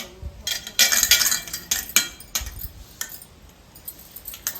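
Metal thali plate clinking and scraping as it is handled and greased with oil, several bright metallic clinks in quick bursts, close and alone.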